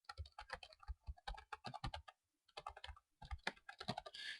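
Fingers type code on a computer keyboard in quick close clatter, bursts of keystrokes broken by a couple of brief pauses, with a soft rush at the very end.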